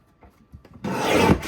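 A paper trimmer slices a sheet of light blue cardstock at a crafting table, giving a brief close rasping swipe that follows a few small taps and handling clicks.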